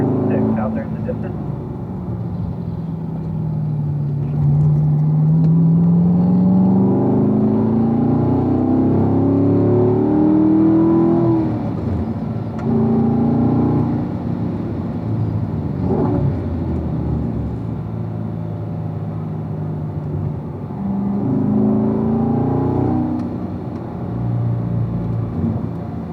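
Race car lapping the Ron Fellows track, a steady engine drone rising and falling in pitch through the corners, loud and continuous, with an instructor talking over it throughout.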